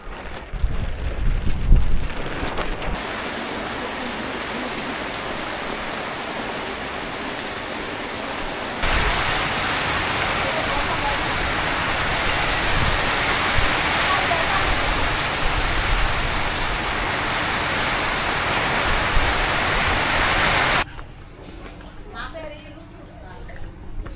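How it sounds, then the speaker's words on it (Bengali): Steady rain falls on an outdoor shelter canopy where people sit together, a dense even hiss that swells louder midway and persists, with a voice speaking over it. "তো যেহেতু বৃষ্টি হইতেছে"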